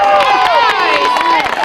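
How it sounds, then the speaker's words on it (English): Marchers and onlookers at a street protest march in New Jersey cheer and clap loudly for U.S. war veterans, a close, dense crowd roar with shouting voices mixed in. "A big round of applause for U.S."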